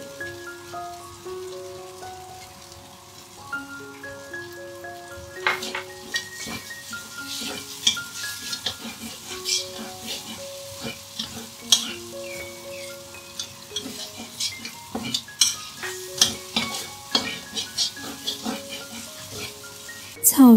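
Chopped curry leaves and dried leaves being stir-fried in a pan for a vegetarian otak-otak, a steady scraping and sizzling with soft clicks of the spatula running under continuous background music.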